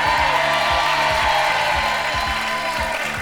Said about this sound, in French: je vous demande toujours de les applaudir